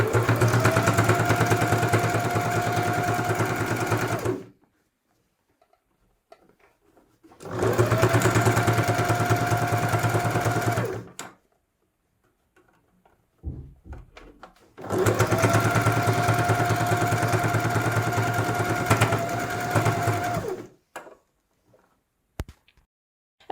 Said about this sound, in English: I'm just going to sew those with a straight line and then probably finish them off with a zigzag